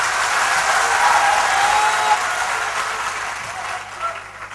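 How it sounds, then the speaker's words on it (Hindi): Loud, dense applause from the audience at a devotional jagran in Bangalore, strongest at first and gradually thinning toward the end. "बजाओ ऐसी तालियां कि आप सबको"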